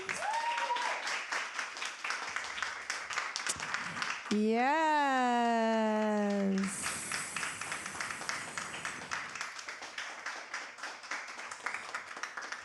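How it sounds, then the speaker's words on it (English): A community gathering claps after a call for applause: crisp, scattered clapping runs throughout, interrupted midway by a loud, sweeping tonal sound lasting a couple of seconds, with a voice briefly speaking. "Can we give them a round of applause?"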